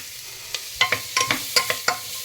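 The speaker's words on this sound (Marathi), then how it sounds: "डबू मिरची घातल्यानंतर पूर्ण हलवून घेत आहे" A spoon scrapes and stirs pav bhaji in a hot pan just after dabu chili goes in, beetroot reddening the mix: eight or so sharp, close stirring knocks over a steady low sizzle, with no talking.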